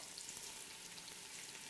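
White and red onions frying in a hot pan give off a faint, even sizzling hiss that holds steady throughout, with no talking.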